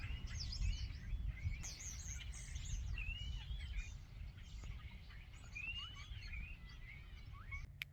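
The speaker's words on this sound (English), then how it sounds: "There's a huge amount of bird noise coming from the top of that tower." Many birds chirp and call from the top of a tower, overlapping high tweets and trills scattered throughout at moderate distance over a low rumbling outdoor background.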